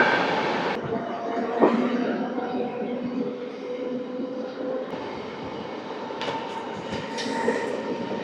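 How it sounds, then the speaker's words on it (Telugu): A train rumbles past on the adjacent track at Kovvur railway station, a steady broadband roar with a brief clank, close and loud throughout with no talk over it. "పక్కన LHP ట్రైన్ ఒకటి వెళ్ళిపోతుంది అన్నమాట"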